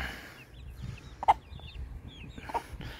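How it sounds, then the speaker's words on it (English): Pet hens and a juvenile chicken clucking softly in a backyard flock, with two brief louder clucks standing out over low, steady outdoor background noise. "Hanging out with my chickens."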